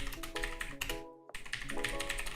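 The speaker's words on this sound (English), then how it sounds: "I'm not typing properly at all" Rapid typing on a computer keyboard, dense close clicks in bursts with a short pause in the middle, alone without speech.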